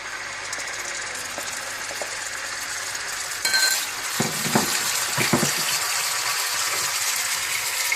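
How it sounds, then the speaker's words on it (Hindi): Meat dropped into hot oil in a deep cooking pot, with a steady broadband sizzle that jumps in loudness as it goes in, followed by a few stirring scrapes and continued frying hiss, close with no talking. "सबसे पहले आप एक देगचे में तेल डाल लें। इसमें आप गोश्त डाल दें।"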